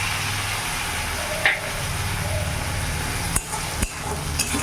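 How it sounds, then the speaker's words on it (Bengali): Masala spice paste tipped into hot oil for a silver carp kalia fries with a continuous broadband sizzle, broken by a few sharp spatula clacks against the pan. "এবার এর মধ্যে আমি এই মশলা পেস্ট যেটা রেডি করেছি পুরোটা দিয়ে দেবো।"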